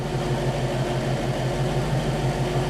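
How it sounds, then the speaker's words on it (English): A 1960 Pontiac engine idles steadily up close with new oil and filter, a low, even rumble with a constant hum and no change in pace. "Sitting here running with the new oil and filter."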